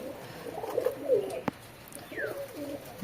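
Soft cooing from a red pigeon in a few short throaty phrases, with a sharp click midway and a faint high chirp.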